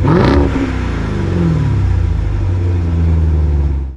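A supercharged Hellcat HEMI V8 in a 2024 Dodge Durango SRT Hellcat revs hard and then settles into a deep, loud, rumbling idle that stays steady and close throughout.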